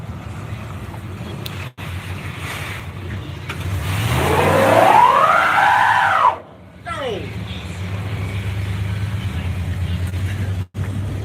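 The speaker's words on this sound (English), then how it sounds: "he has to come back around this way for his one wheel peel" A car doing a one wheel peel, tires spinning with a rising engine rev and screech that peaks and cuts off abruptly, loud over outdoor crowd chatter and background engine hum.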